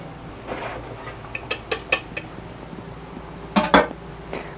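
Lumpy flour gravy for a Thanksgiving turkey dinner poured through a metal strainer into a bowl, heard as a series of close, sharp clinks and taps of metal on the rim, with a louder clatter near the end.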